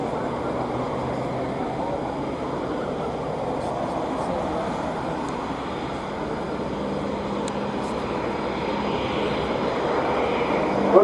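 A fixed-wing aircraft at an air show at RNAS Yeovilton rolls and dives over show center, producing a continuous loud engine roar and rushing noise that swells slightly toward the end, heard from a distance outdoors.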